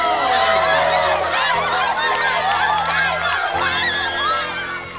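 An audience at a live singing competition show cheers loudly, with high whoops and shouting from many voices packed together, sustained and close, for a contestant named Simón.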